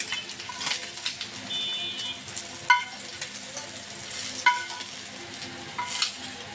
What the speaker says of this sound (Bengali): বন্ধুরা দেখুন বাকি মাছটা আমি ভেজে নিচ্ছি